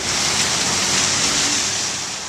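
Steady rain pours down on a street where cars pass, a dense continuous hiss filling the air at close range with no voices.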